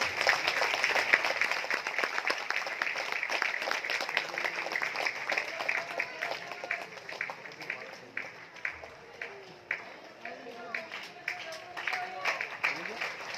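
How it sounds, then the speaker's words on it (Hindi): Applause from an audience welcoming a guest onto the stage at an event in Mumbai, sustained clapping of moderate loudness that continues for several seconds with some crowd noise. "मिस्टर कमाल लोचन माली आए हैं, इनके लिए जोरदार तालियां प्लीज"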